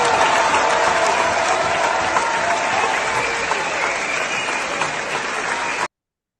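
Sustained applause from a concert hall crowd at the end of a Philharmonic performance, dense and even, heard through a recording with faint murmurs beneath before it cuts off abruptly to silence.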